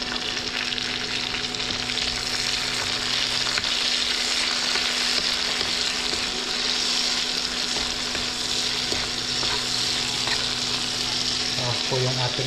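Tomatoes and vegetables stir-fried in a pan for a vegetable dish, sizzling in a loud, continuous hiss with occasional stirring clatter near the end.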